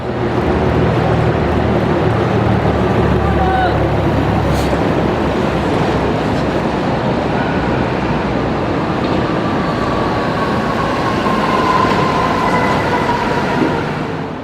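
A London Routemaster bus, RMC 1461, drives southbound through Moorgate, a loud, steady rumble of the engine and road noise that holds for the whole stretch and eases off slightly toward the end.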